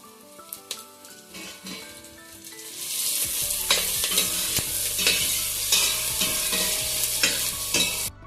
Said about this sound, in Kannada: ನೋಡಿ ಈ ರೀತಿ ಚೆನ್ನಾಗಿ ಫ್ರೈ ಮಾಡ್ಕೋಬೇಕು ಸ್ವಲ್ಪ ಟೊಮೊಟೊ ಬಾಡೋವರೆಗೆ ಫ್ರೈ ಮಾಡ್ಕೋಬೇಕು